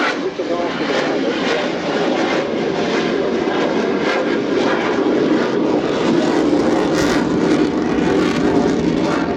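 Finnish Air Force F/A-18C Hornet jet flying a display at the RIAT 2025 air show, a loud continuous engine roar throughout, with a commentator talking over it.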